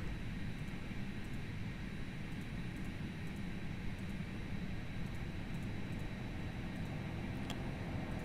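Airbus engines at TOGA thrust during takeoff in a flight simulator: a steady, broad jet roar that holds level and fills the cabin for the whole stretch, with no talk over it.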